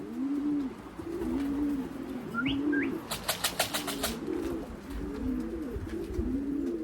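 Young racing pigeons back at the loft after a 114-mile race coo low and repeatedly throughout, with a short burst of wing flapping and clattering midway, all close by.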